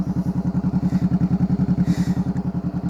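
A motorcycle engine idles close by in a fast, even throb of low pulses, holding steady for about three seconds with no voices.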